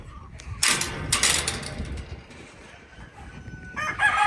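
Barnevelder chickens in a coop give loud clucks and crowing calls in two strong bursts near the start, then quieter scratching and squawks, with a fresh burst of calls at the end.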